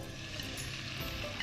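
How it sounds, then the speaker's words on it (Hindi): Mutton pieces frying in oil in a karahi, a continuous dense sizzle with no break. "अब इसमें मैं गोश्त को अच्छी तरीके से फ्राई करूँगा"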